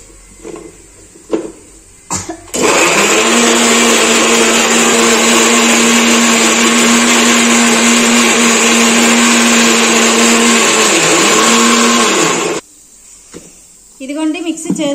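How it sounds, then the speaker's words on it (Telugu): A kitchen mixer grinder blends onion paste, starting abruptly into a loud, steady motor whine that holds for about ten seconds before cutting off, with brief speech before and after. "ఇప్పుడైతే నేను మిక్సీ చేస్తాను."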